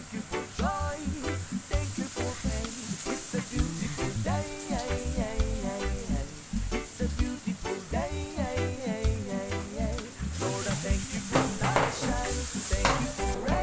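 Potatoes go into a pan of sautéed garlic for a corn and beef dish, raising a steady, loud sizzle and frying crackle that runs throughout, with stirring noises and background music.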